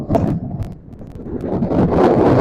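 Mistral wind gusting across a golf course in Marseille, a loud rough buffeting roar on the microphone that dips briefly and then swells again, with no voices.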